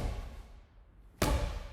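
A stiff jab punch strikes a punching bag in one sharp, solid thud, close by and alone, after a brief quiet room background.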